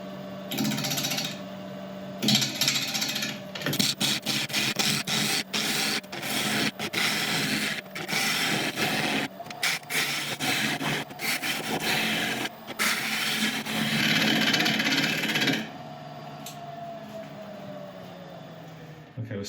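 A wood lathe spins an uncut burl at about 750 RPM. The gouge catches the uneven wood in loud, irregular chattering bursts over a steady motor whine, with brief pauses between cuts.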